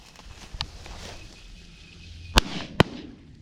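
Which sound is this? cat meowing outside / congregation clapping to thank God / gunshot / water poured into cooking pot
gunshot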